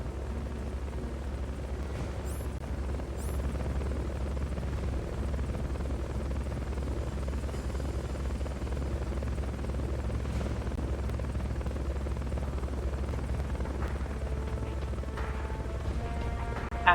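Helicopter rotor in the video game Metal Gear Solid: Peace Walker, a steady loud low drone that holds for the whole stretch, with faint scattered game sounds on top.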